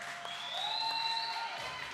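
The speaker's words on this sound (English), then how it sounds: "Clap them, well played, clap them." Applause for players at a domino tournament, a moderate wash of clapping from a small crowd, with a sustained whistle-like tone running through and some voices in the background.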